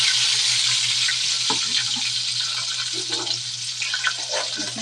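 Chicken pieces sizzle in a hot pan in a home kitchen, a steady bright frying hiss over a low hum, with occasional small pops and stirring sounds throughout and no talking.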